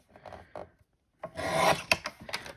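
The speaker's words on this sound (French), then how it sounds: "Au niveau de mon marquage, hop, je vais couper" Scissors or a trimmer cut scrapbooking paper close to the mic in short rasping strokes: one faint burst, a pause, then a louder sustained slicing sound with a few sharp snips.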